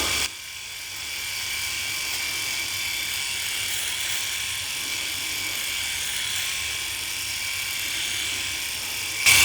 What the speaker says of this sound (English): according to Phillips, I'm shaving too strong